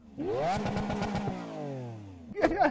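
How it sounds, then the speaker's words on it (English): A Lamborghini Aventador and a Tesla Model S launch in a drag race, with an engine revving hard and rising in pitch through a quick, close acceleration run, followed by a brief burst of louder noise at the end. "when you floor the throttle and then lift off the brake"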